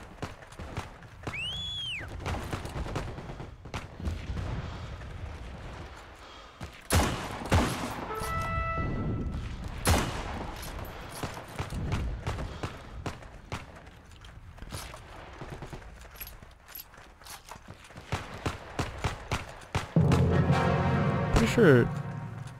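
Bursts and single shots of gunfire in the Heroes & Generals war game, some near and sharp, others more distant, with machine-gun rattles between them while a player keeps talking.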